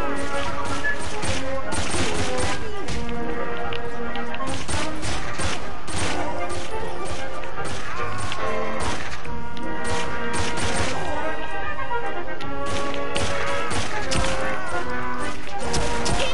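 Dense, continuous enemy gunfire in the video game Saints Row: rapid overlapping shots and crashing impacts sustained at full loudness throughout, with a player talking faintly beneath the barrage.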